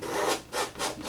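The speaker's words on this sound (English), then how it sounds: "rub it into the canvas really good" A brush scrubbing paint into canvas in a Bob Ross style winter landscape, three rhythmic rasping back-and-forth strokes, close and clear with no talk.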